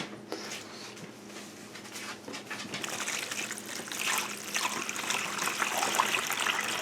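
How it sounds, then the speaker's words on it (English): Water is poured into the bottom of a planting container for onions, a steady trickling and splashing that grows gradually louder and fuller over several seconds. "And now I'm going to put my water into the bottom,"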